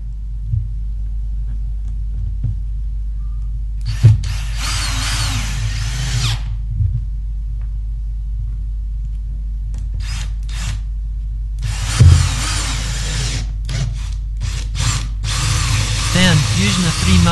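A power drill with a 3mm bit bores holes through two wooden boards, making two long grinding bursts and several short ones over a steady low hum. No speech is heard.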